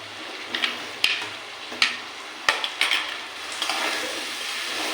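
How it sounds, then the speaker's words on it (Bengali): A spice mixture with potatoes for matar paneer sautés in a pan with a soft sizzle. Sharp spatula scrapes and clinks against the pan land in irregular strokes, and the frying grows louder toward the end. "মশলা আরেকটু ভালো করে কষিয়ে নেব"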